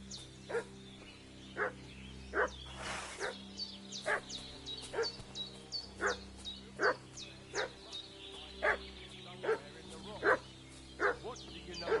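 A dog in Kingdom Come: Deliverance 2 barks repeatedly at a steady, regular pace, moderately distant, over a low ambient hum.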